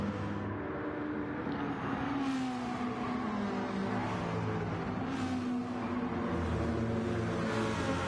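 Gr3 race cars in a sim racing game on the reversed Sardegna B layout: a dense, steady drone of several engines howling together, with shifting pitches as the cars rev and change gear, and no pauses.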